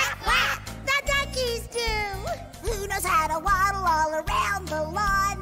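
A voice imitates a duck with rhythmic, nasal quacks sung over a bouncy children's song from Barney, repeated in quick bursts amid singing and music.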